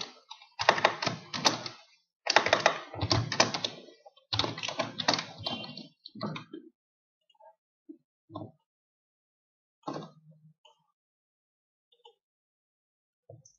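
Keyboard typing while writing text in Illustrator CS6, heard as dense bursts of rapid key clicks over the first six seconds, then sparse isolated taps trailing off into near silence.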